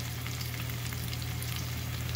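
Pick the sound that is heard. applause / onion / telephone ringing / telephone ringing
onion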